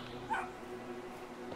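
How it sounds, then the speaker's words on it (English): Dogs in the video game Brothers: A Tale of Two Sons give a single short, faint bark or yip amid quiet ambience, with a soft voice briefly in the background. "The dogs."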